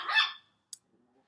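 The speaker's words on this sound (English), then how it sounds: "Sorry, it's my dogs." A dog gives a single short bark at the start, loud and close, followed by a tiny sharp click and then near silence.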